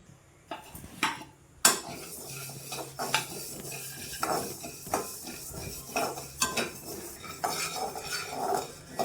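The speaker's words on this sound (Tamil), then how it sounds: "இப்போ எல்லாத்தையுமே ட்ரை ரோஸ்ட் பண்ணிக்கலாம் வாங்க" Mustard seeds, fenugreek and dried red chilies dry roasted in a pan for rasam powder, with a spoon scraping and clinking against the metal in irregular strokes under low background hum, no talk.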